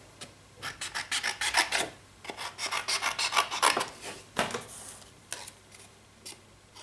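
Scissors cutting out a small paper tag for a stamped greeting card, a run of close, crisp rasping snips in quick bursts with short pauses between.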